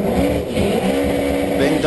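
A 1320 Mini front-wheel-drive drag car runs at Santa Pod Raceway, its engine a loud, sustained buzzing roar heard from on board, with a commentator speaking over it.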